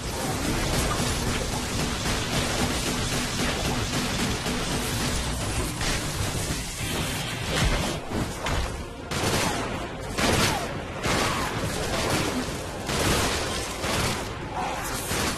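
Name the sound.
shooting in Sunset Overdrive video game clip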